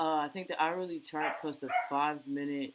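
Dogs bark and yip in the background, intermittent and fairly close, under steady talk.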